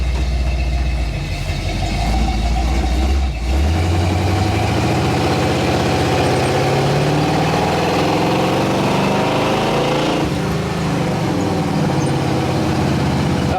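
An AMC 360 V8 idles steadily right after its first start, a loud, continuous low rumble up close with a slight shift in pitch partway through and no talking.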